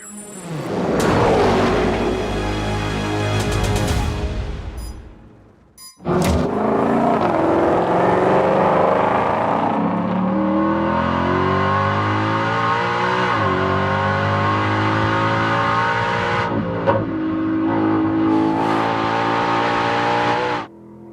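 A Ford Mustang GTD race car at full throttle on a track, engine roaring loud and close as it accelerates through the gears, briefly cutting out before surging again and holding a sustained high-revving drone with shifts.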